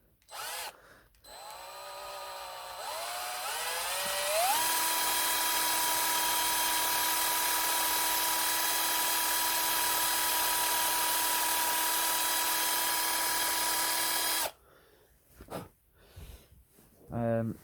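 A power drill whines up to speed and holds a steady high-pitched drone for about ten seconds, close by, then stops, with brief handling noises before and after.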